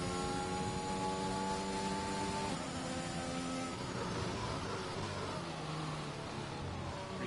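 A race car engine in a racing video game holds a steady droning note under careful throttle, changing pitch slightly as it accelerates, loud and continuous with no talking.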